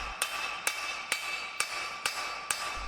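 A hammer strikes hot metal being forged into a taper in a three-heat blacksmithing challenge. Six evenly spaced, ringing blows land in a steady rhythm, close and loud with no talk.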